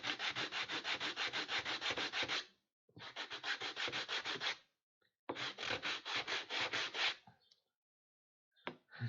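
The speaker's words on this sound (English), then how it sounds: "sandpaper is just amazing" An axe handle sanded by hand with sandpaper, close and fairly loud, in three bursts of quick rhythmic back-and-forth rasping strokes with short pauses between, then a couple of faint scrapes.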